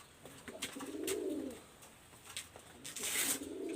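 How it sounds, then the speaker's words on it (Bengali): A Nilodumba pigeon with yellow eyes coos in two soft, rolling phrases separated by a pause, over a steady background hiss with scattered faint ticks and higher chirps. "যারা টপ কোয়ালিটি নীলদুম্বা কবুতর খুঁজেছেন"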